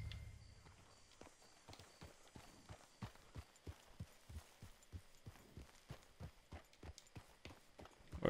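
Horse hooves clip-clop steadily in Red Dead Redemption 2, a long run of evenly spaced, moderately loud hoofbeats from a walking or trotting horse, with no talk over them.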